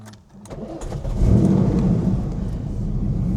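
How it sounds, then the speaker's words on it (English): An air-cooled Porsche 964 engine with 376,000 miles cranks and fires up, settling into a deep, low grumbling idle that stays loud and steady. "we'll keep the door open so we can hear this lovely air-cooled engine"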